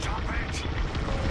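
A starfighter's rotary cannon fires in Star Wars Squadrons in VR, a dense continuous roar of rapid shots filling the whole moment, with a voice talking over it.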